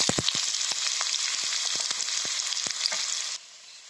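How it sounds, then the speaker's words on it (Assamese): Chopped onions fry in a hot pan with a constant close sizzle, punctuated by sharp stirring clicks, before the sound cuts off abruptly near the end. "পিঁয়াজখিনি ভাজা মোৰ প্ৰায় হৈ গ'ল।"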